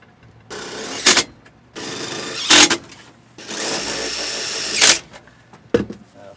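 A power drill drives screws while a furnace is being installed, running in three separate bursts of whirring, each ending in a sharp peak as a screw seats, with short pauses between.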